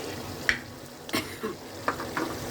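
Prawns frying and being stirred in a pan, a low steady sizzle broken by a few sharp scraping stirs and clicks, close and alone without talk.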